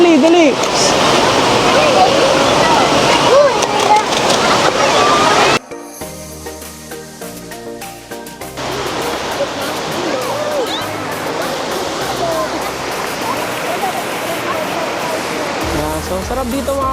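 An artificial waterfall at Batis Crisostomo swimming resort in Dolores, Quezon, pours with a steady, loud rushing roar that breaks off for a few seconds midway, where music-like tones take over, then resumes just as dense.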